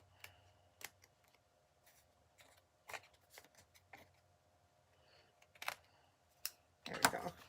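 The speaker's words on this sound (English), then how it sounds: "I take our scissors here." Scissors snip through ribbon during a stamping and card-making class, a few sharp crisp cuts spaced irregularly across the quiet table, ending in a brighter burst of rustling.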